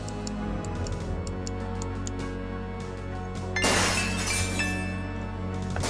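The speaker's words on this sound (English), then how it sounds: "Gabriel hears the faint sound of breaking glass" Glass breaking in the Gabriel Knight: Sins of the Fathers adventure game, a sudden bright shattering crash partway through over a steady ticking clock and humming background tones.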